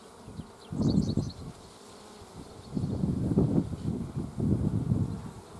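Honey bees buzzing around an open hive on a hot day, a dense insect hum that swells in bursts and fades between them, fairly close and steady with no talking.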